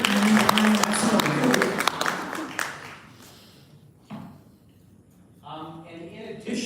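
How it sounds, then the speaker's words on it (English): An audience at a celebration of Lufthansa's 65 years in Thailand applauds a guest, a burst of clapping that is fairly loud at first and then fades away within a few seconds, followed by scattered taps and talking. "Let's give a round of applause for the gentleman."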